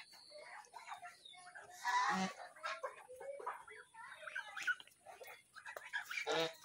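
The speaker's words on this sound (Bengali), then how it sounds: "বালি হাঁসগুলো আমার ঠোকানোর জন্য আসতেছে।" Lesser whistling ducks approach with a series of faint, high, chirping whistles in short bursts, heard from nearby in a quiet outdoor setting.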